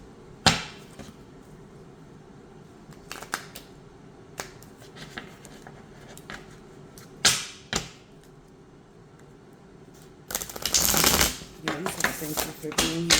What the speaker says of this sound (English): Okay, so let's get the shuffling.